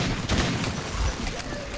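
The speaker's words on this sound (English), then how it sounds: "Where am I getting shot from?" Gunfire in the shooter Metro 2033, a dense, noisy barrage of shots and impacts with a few sharper cracks standing out, loud and continuous throughout.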